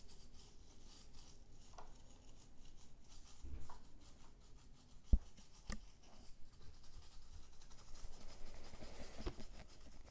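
Rubbing and scraping at the circuit board of a PS4 controller under repair, a soft, continuous close-up friction with a few sharper clicks, fairly faint and with no talk.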